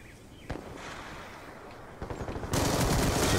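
Gunfire from a weapon in Call of Duty Black Ops 2 during team deathmatch, with a few isolated shots early, a rapid burst near the two-second mark, then a loud sustained blast of fire to the end.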